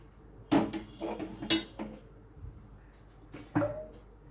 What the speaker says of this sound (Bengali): এবার বসিয়ে দিচ্ছি একটা ফ্রাইং প্যান